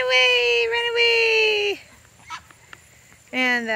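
A loud, close cockerel crow with a long drawn-out note, followed by a short quiet gap with soft clucks, then another crow starting.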